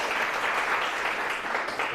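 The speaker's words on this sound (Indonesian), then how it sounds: "Tepuk tangan untuk Mas Najah" A classroom audience in a chemistry lesson claps for a participant, a dense, even patter of many hands sustained throughout at moderate loudness.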